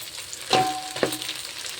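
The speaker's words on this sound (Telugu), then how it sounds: "తర్వాత చికెన్ వేసుకోవండి." Chicken pieces for leg-piece biryani hit a hot pan, giving two quick sizzling bursts over a quiet low crackle, no talking.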